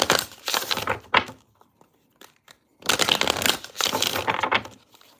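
Tarot cards shuffled in two bursts of papery riffling and crackling, close and fairly loud, separated by a short quiet gap with a few faint taps.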